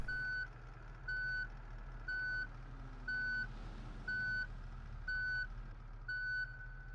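A truck's reversing alarm sounds in the BeamNG driving game. Seven evenly spaced, loud electronic beeps repeat over a low, steady engine hum.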